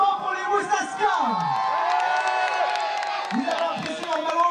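An outdoor festival crowd cheers, whoops and claps to welcome a band onstage at an afternoon show by a canal. The loud, continuous roar of voices rises and falls with shouts throughout.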